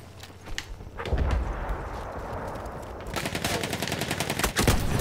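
Sniper rifle shots from a Battlefield 1 match crack out as several sharp reports amid scattered gunfire and battlefield clatter, fairly close and punchy, with no voices over them.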